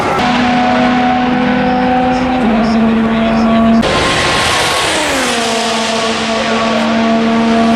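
Formula 3 race cars accelerate hard out of turn 10 at the Australian Grand Prix, engines screaming loudly with shifting pitch as they flatten the throttle down the back straight, with a commentator talking over them.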